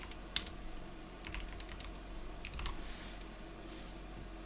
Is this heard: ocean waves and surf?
no